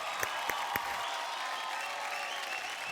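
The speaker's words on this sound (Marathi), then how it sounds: "जोरदार टाळ्या होऊन जाऊ द्या श्रुतीसाठी" Studio audience at a Marathi television dance show applauds, a fairly distant, even wash of clapping with a few sharper claps at the start, no voices over it.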